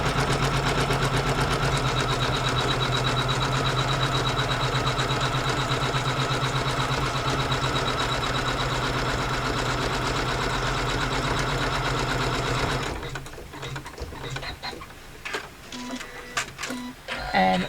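A sewing machine runs steadily, stitching pressed fabric for a quilt block, with a continuous mechanical whir and rapid needle rhythm for about thirteen seconds before it stops, leaving quieter handling sounds.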